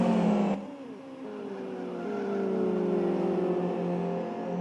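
Race cars from a racing video game roar past on the Kyoto National track, one engine note dropping as it goes by, then a continuous loud whine of several cars running on, without voices.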